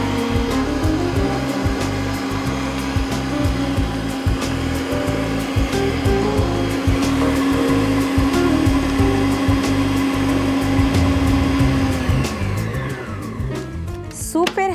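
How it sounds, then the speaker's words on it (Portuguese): Electric mixer beating unsalted butter and sugar at high speed for a tie-dye cake batter, a loud steady motor whine running continuously for about twelve seconds before winding down, with rhythmic beater knocks underneath. "Pode bater em velocidade alta."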